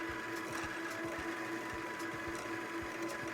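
A domestic sewing machine winds a purple bobbin in a steady, continuous mechanical whir with a faint rhythmic ticking, close and even throughout.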